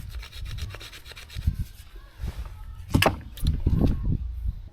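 A Harbor Freight Gordon survival hunting knife saws through wood in uneven, rasping strokes, with scraping bursts of varying loudness, close and fairly quiet, with no talking.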